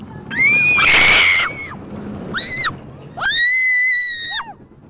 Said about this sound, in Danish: Ja, jeg skriger bare så højt, jeg kan.